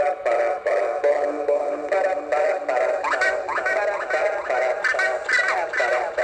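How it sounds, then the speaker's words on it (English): A sound bending synth plays a repeating voice-like warbling pattern with a reverb echo effect, each phrase smearing into a trailing wash, steady and up close. "You can hear the reverb there, the echo."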